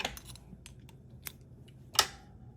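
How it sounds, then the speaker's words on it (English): Scissors snip through hackle feathers while tying a crappie jig, giving a few soft, close clicks and one sharper snip near the end in a quiet room. "I'm going to cut them right there, just like that."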